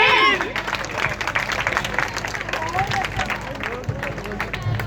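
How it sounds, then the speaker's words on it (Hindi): An audience applauds a performance by small children, a lively spread of clapping mixed with crowd murmur and a few voices. "एक बार जोरदार तालियां हो जाए छोटे छोटे बच्चों के लिए।"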